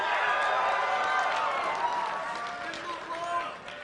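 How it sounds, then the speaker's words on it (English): A crowd at the IPL4 tournament quarter-final between SoloMid and v8 cheers and claps in a sustained roar that slowly fades, with voices mixed into the din. "let me hear you guys cheer for V8 too"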